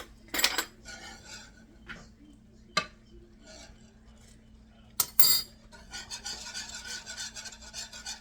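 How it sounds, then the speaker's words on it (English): Metal spoons and kitchen utensils clatter and scrape as one is pulled from a drawer, with sharp clinks and rustling handling, close and fairly loud, separated by quieter pauses. "Let me grab another spoon."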